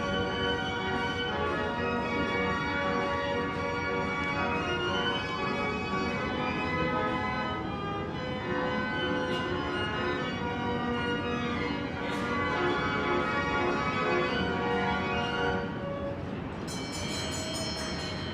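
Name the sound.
bell ringing on the Idora Park Carousel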